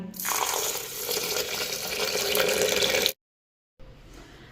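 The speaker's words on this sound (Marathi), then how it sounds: "आता यामध्ये घालायचं आहे दूध." Cold milk poured into a mango shake mixture, a steady close liquid splash lasting about three seconds, then a brief silence and a softer trickle.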